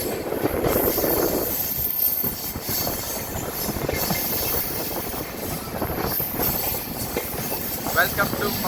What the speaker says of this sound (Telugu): సో ట్రైన్ అనేది 50 కిలోమీటర్స్ బిలోనే వెళ్తుంది.